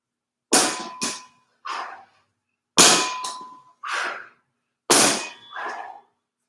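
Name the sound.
weights clanging during trap bar deadlift set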